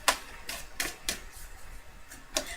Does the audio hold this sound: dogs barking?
no